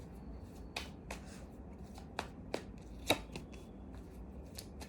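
Tarot cards being shuffled by hand, a run of sharp riffling snaps and soft flutters at an uneven pace, close and fairly quiet, with no talking.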